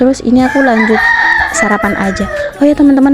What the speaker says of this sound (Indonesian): kalau kalian itu merasa terganggu dengan suara kokokan ayam.